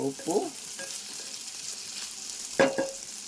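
Bitter gourd pieces fry in a pan with a soft, steady sizzle, broken by a couple of brief scraping stirs, close by and fairly quiet, with no voices.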